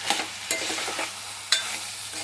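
Ridge gourd curry fries in a pan with a continuous close sizzle while a spoon stirs and scrapes through it in a few distinct strokes, with no talking.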